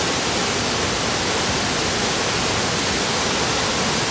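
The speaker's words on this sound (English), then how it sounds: "this waterfall was barely a trickle, but boy, it's coming down now" A waterfall on the Appalachian Trail, swollen with runoff, roars as a steady, dense, close wash of rushing water with no pauses and no voices.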